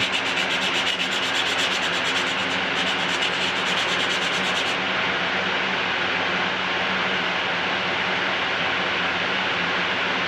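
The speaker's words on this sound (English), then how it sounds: "I'm going to have to sand the side against the grain again to find out." A Bolens 11A part is sanded across the grain, giving a steady, close, continuous abrasive rubbing hiss that holds an even level throughout with no pauses or talk.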